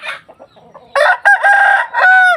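A rooster crows loudly and close, a drawn-out cock-a-doodle-doo in several strained, wavering bursts after some softer clucking.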